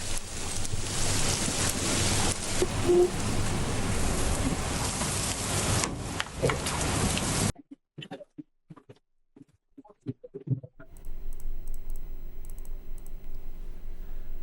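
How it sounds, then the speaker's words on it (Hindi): Heavy, torrential rain roars steadily during a thunderstorm in the hill town of Murree, a dense loud hiss for several seconds that then cuts to quieter scattered sounds. "मलका कौसार मरी में गरज चमक के साथ मूसलाधार बारिश का सिलसिला जारी है।"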